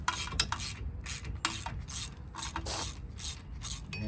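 Ratchet clicking while screws are backed out on the rear brake of a 2006 Chevrolet Silverado SS, a series of close, rapid ratcheting bursts in a steady rhythm with metallic scraping between strokes.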